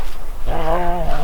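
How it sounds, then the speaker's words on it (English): Two dogs in a campsite setting give a brief harmonic whine or growl, starting mid-clip, close and fairly loud over a low background rumble. "it's these 2 psycho dogs"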